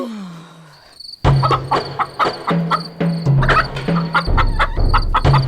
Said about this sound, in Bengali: এক রাতে মুরগিগুলোর আওয়াজে বুড়ির ঘুম ভেঙে গেল